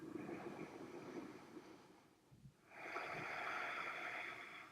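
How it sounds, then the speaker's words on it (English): Slow, smooth breath during a yoga stretch, a long soft inhale and then a steady exhale close to the microphone, quiet and unhurried with a short pause between them. "Just take one smooth inhale and exhale here."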